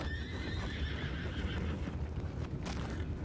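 A horse in the video game Red Dead Redemption 2 whinnies in a long, wavering call over a steady low rumble, with hoof clops and faint background activity.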